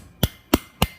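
Three sharp hammer blows ring out at an even pace as aluminum is cold forged against the side of an anvil, shaping a basic snake head; each strike is close, loud and metallic, with no talk.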